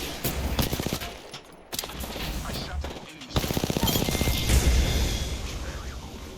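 Gunfire in the battle royale game Apex Legends as a teammate shoots at enemies, with rapid bursts of shots layered over dense game noise and brief pauses, fairly loud and continuous.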